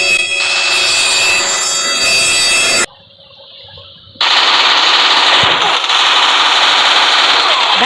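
Rapid, loud automatic gunfire from the video game Free Fire rattles in dense bursts, breaks off into a short quiet stretch, then resumes in continuous volleys.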